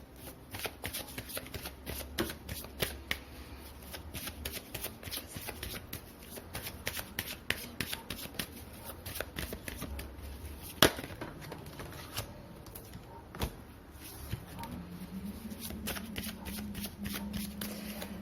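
Tarot cards being shuffled by hand, a steady run of soft riffling snaps and slides close to the microphone, with no one talking.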